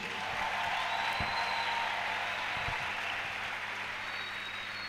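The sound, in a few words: congregation applauding and cheering for Jesus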